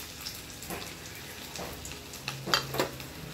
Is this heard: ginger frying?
yes